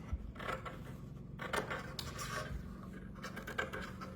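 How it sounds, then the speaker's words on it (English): Scissors snipping through tissue paper along fold lines, a few soft crisp cuts and papery rustles, close and fairly quiet with no talking. "we're going to cut along the fold lines"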